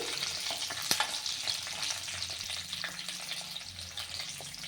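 Green chillies sizzle in a hot pan, a steady close frying hiss with occasional spatters and a sharp pop near the start, no voices.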